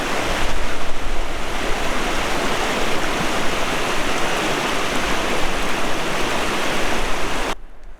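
Steady rushing water from a tributary stream at a river ford, a dense continuous roar close by that fills the whole span before cutting off abruptly at the end.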